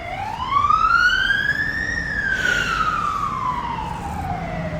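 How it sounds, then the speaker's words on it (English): An emergency vehicle siren wails by on the street outside. Its single long rise and fall swells loud, holds, then fades as the vehicle passes over a steady background of traffic rumble. "We'll just let this siren go past."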